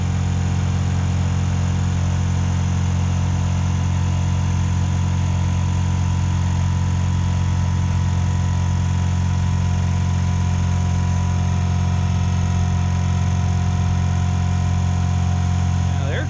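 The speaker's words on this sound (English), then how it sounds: "the air compressor seemed to fill up pretty quick. It's a little loud, but that's better." Air compressor running continuously to fill the air ride suspension of a 2000 Lincoln Town Car, a loud steady droning hum with strong low tones, unbroken for the whole stretch.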